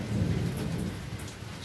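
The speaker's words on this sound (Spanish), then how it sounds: "está lloviendo, señores, miren las gotitas." Rain falling over El Salvador with a low rumble of thunder, steady patter on surfaces and a deep roll that fades, heard at a moderate distance without talk.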